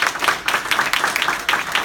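A round of applause from a small gathering of real estate agents honoring a colleague, with clustered claps in an uneven rhythm, fairly close.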